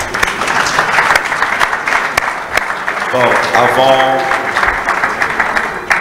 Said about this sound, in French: Nous encourageons l'auteur avec nos acclamations